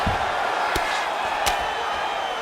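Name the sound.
crowd cheering in UFC video game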